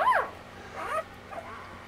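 Newborn puppies from a litter whimper and yip in three short, high, wavering cries, the first loudest and the others fainter, against a quiet room.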